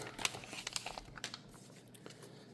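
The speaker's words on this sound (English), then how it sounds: "And then I start opening the cards up" Trading card pack wrappers from a Star Wars Unlimited set are torn open and crinkled, giving quiet, close crackling and rustling with a few sharper crinkles over about two and a half seconds, no voices.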